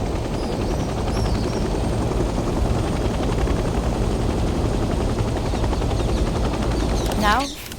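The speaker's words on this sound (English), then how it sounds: "The helicopter will now take off automatically and remain in a hover state." A military helicopter lifts off and hangs in a hover in a Vietnam-era shooter, its loud, continuous rotor chop and turbine roar filling the scene, with a brief whooshing burst just before it ends.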